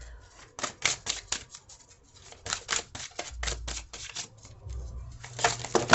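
Tarot cards shuffled by hand in repeated bursts of crisp riffling and slapping, close and moderately loud, with short pauses between rounds.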